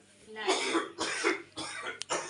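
A man coughs and clears his throat repeatedly nearby, several harsh, rasping bursts in quick succession with a brief sharp catch near the end.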